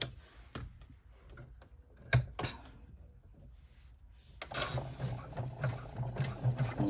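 An embroidery machine stitching down the window on a bag flap held in the hoop, with rapid, steady mechanical clatter from close by that pauses briefly, then resumes louder and continuous toward the end.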